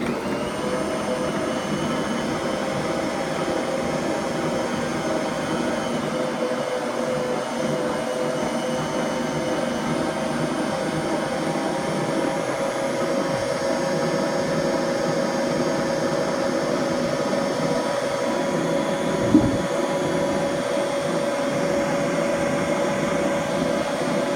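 A Bosch Universal stand mixer runs at its lowest setting, speed 1, with the lid on over a sparkle cookie mix containing powdered sugar. It gives a steady, unbroken motor drone with a faint hum throughout, and one small knock near the end.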